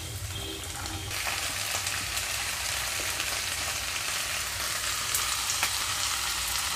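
Onions and green chillies fry in a pan, a steady hissing sizzle that swells after the first second and stays even and close, with faint crackles and no talking.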